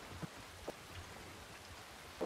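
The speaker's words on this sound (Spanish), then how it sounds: "refúgiate de la lluvia, por favor" Rain falling in the Red Dead Redemption video game world, a steady soft hiss of drops on surfaces with a few brief louder knocks, no talk over it.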